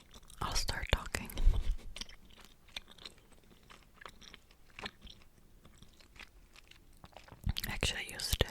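Gum chewed close to the microphone, wet smacking and clicking chews spread through a quiet stretch, with soft whispering at the start and end.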